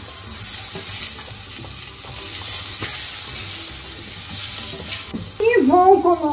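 Hearts of palm sizzle in hot olive oil while a chicken-and-rice galinhada cooks. A steady, close frying hiss runs with light stirring and grows louder near the end.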